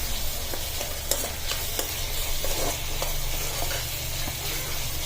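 Tomatoes with salt fry in a pan with a constant close sizzle, while a spoon scrapes and stirs in scattered clicks and taps throughout.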